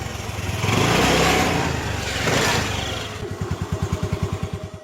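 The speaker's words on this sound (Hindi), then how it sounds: "उसके बाद चुड़ैल स्कूटर लेती है और वहाँ से चला कर ले जाती है।" A scooter revs loudly and rides away, the engine swelling twice and then settling into a rapid, pulsing putter at the end, with no talking.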